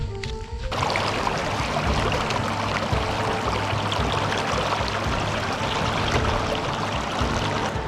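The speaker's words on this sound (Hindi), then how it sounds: "और ये है इंद्रावती नदी जो ओडिशा के कालाहांडी इलाके से निकलती है" The Indravati River flows near Muchnar in Dantewada, a loud, continuous rush of water that begins abruptly and holds steady and close throughout.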